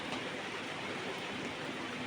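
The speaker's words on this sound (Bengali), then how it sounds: "আবার বৃষ্টি পড়ছে।" Rain falls as a soft, even hiss that stays faint and unbroken throughout, with no voices or other sounds standing out.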